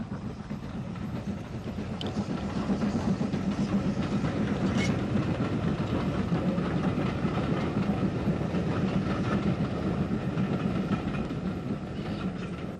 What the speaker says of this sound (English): The cavalcade banked at the rear by a WT tank is the 8:05 p.m. goods from Belfast to Ballymena.